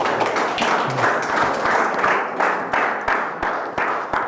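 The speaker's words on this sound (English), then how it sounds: "they're clapping because you're coming up to speak" Sustained applause from an audience at a talk in Richards Bay, South Africa, a steady wash of many hands clapping that fades and swells in short bursts toward the end.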